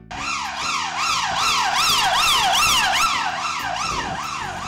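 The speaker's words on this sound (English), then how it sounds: "I bet you've seen a police car before. With bright flashing lights and a noisy siren." A police car siren wails in rapid rising and falling sweeps, loud and close, with traffic rumbling underneath.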